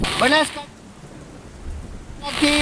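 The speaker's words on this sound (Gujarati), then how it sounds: "વરસાદ ધમાકેદાર પડી રહ્યો છે" Heavy rain roars in a steady, dense hiss during severe flooding in Suigam, Banaskantha, a border area of Gujarat, with a voice briefly at the start and end.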